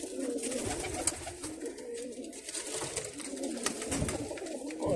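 Pigeons cooing and calling in a loft, steady low murmuring coos with soft wing and movement noises throughout.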